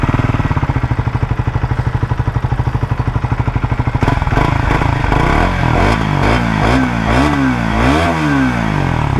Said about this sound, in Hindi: एग्जॉस्ट की साउंड सुनाता हूँ